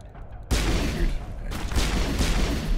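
Gunfire in the video game Mass Effect 1 Legendary Edition, a dense burst of rapid shots that starts suddenly after a brief lull and keeps rattling heavily to the end, with a faint voice underneath.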